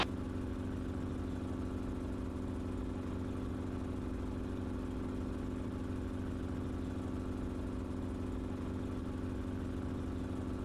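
Helicopter cabin in flight at around 700 feet over a California neighborhood, a constant loud droning rotor and engine hum with a steady low tone, unchanging throughout.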